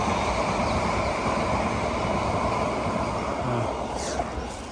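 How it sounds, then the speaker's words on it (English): A London Underground Metropolitan line train runs past between Northwood and Moor Park, a steady broadband rumble and rush that stays loud throughout before easing slightly at the end. "you can see there's a Met Line train coming past"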